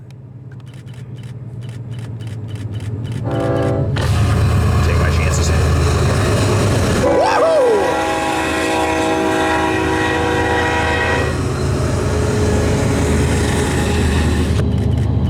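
A freight train led by a Montana Rail Link SD40-2 locomotive rumbles loudly past a crossing, sounding a long, blaring horn midway as the crossing bell clangs; people talk and cheer excitedly over the noise.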